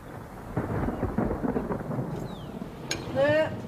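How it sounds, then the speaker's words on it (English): Low thunder rolls through a rural setting over a hiss of falling rain, rising and fading over a few seconds, with a brief high squeak near the end. "Here comes rain."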